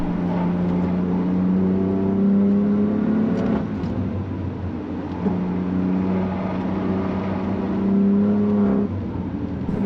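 A BMW M4 engine drones loudly from inside the cabin on a go-kart track, revving up through the gears with brief drops as it shifts, steady and close.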